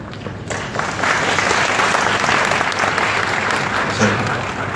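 A church audience at a certificate ceremony for an international Bible correspondence institute gives sustained, dense applause. The clapping is loud and continuous throughout.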